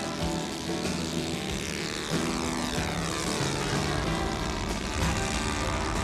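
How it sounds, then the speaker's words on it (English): Radio-controlled Mohawk scale model airplane with a propeller engine at takeoff, a loud, steady, high-pitched buzzing drone that rises and shifts in pitch as it climbs away, heard continuously without talk. "Dave is ready for takeoff, and watch the Mohawk jump into the air"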